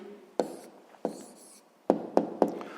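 A pen writes out a maths answer by hand on paper, with a few short scratchy strokes and sharp taps close up, quiet and without talk.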